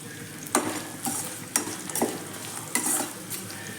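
Vegetables with manathakkali berries, mango and tomato sauté in a pan for vatha kuzhambu, with a soft continuous sizzle broken by a handful of clattering spoon stirs, close and without talk.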